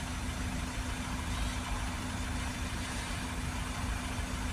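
Citroen Relay 2.2 diesel engine idling with a steady low rumble and a constant drone, continuous and moderately quiet, no voices.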